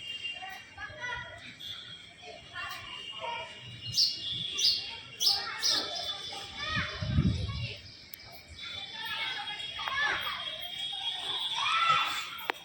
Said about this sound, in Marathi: हे बघा चिमण्या दिसल्या का, चिमण्या